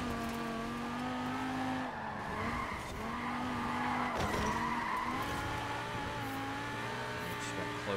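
A car in the racing game Forza Horizon 4 drifts through a corner, its tires squealing in long sustained tones over a steady engine drone, loud and continuous.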